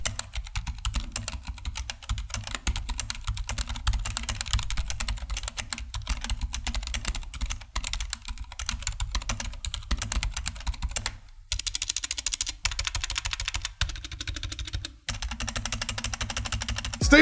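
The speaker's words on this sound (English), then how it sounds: "When the keyboard does type, it sounds like this." Steady run of keystrokes on a Drevo Blademaster Pro wireless tenkeyless mechanical keyboard, close and clear, with brief pauses and slight shifts in tone partway through, no voices.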